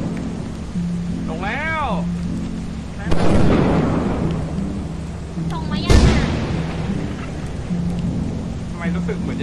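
Heavy rain pours steadily through a thunderstorm in the game Lethal Company, with two loud nearby thunder cracks breaking in; people talk and shout over the downpour throughout.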